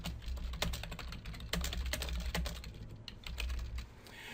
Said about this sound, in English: position your cursor, and start typing